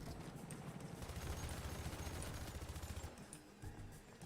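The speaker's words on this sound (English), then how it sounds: "I like the explosions on these" Rapid gunfire and dull explosions from a helicopter-heavy military video game, a dense continuous clatter of shots with low booms, fairly quiet and steady throughout.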